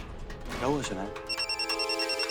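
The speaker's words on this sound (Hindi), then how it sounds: "तुम्हारा फोन कब से बज रहा है, उठा क्यों नहीं रहे?" A voice speaks, then a phone starts ringing in a steady repeating electronic trill, moderately loud and continuing to the end.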